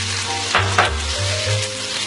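Carrots, onions and green chili stir-frying in a pan over a high flame, a steady close sizzle with a few scraping stirs and a low hum beneath, no voices.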